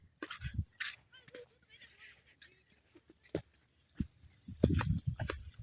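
Hunting dog moving through a millet field during a hunt, with faint yips and whimpers, rustling steps through crop stalks and people talking quietly nearby, louder activity toward the end.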